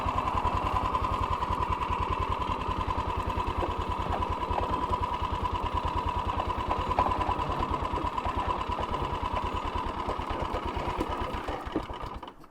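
A Rokon Trail-Breaker 2WD motorcycle engine chugs steadily on a steep trail switchback, a fast even thumping putter that runs loud and close without a break before cutting off abruptly at the end.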